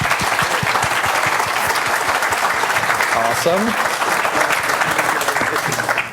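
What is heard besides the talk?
audience applause for the speaker Victor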